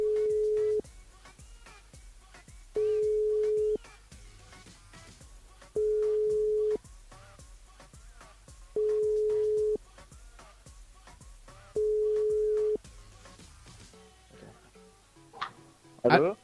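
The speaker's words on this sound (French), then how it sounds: "On appelle Laurent." A telephone line on a radio phone-in show gives a repeating call tone, five evenly spaced steady beeps about two seconds apart, followed by a short burst of noise as the line picks up.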